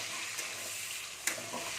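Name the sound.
chopped tomatoes frying in hot oil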